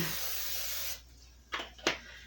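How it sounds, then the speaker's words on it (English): An aerosol can of cooking spray hisses for about a second, then two short, sharp spritzes follow after a pause, close by, while making homemade waffles. "we're going to need to spray that"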